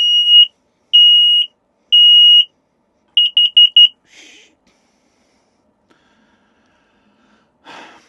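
A loud smoke alarm beeps three long times, then gives a rapid burst of short beeps, followed by quiet with faint rustling.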